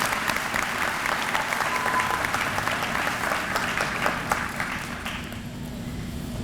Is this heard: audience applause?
yes